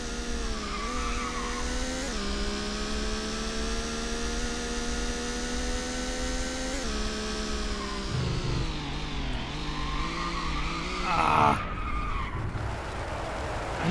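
A race car in Sports Car GT skids and spins out, with a long, droning engine and tire whine that shifts pitch as the car slides, then a brief louder squeal near the end.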